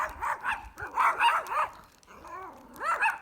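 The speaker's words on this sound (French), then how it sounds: "Et là-bas, il y a des chihuahuas." Chihuahuas bark from close by in quick clusters of sharp, high yips that rise and fall, pause briefly, then start again.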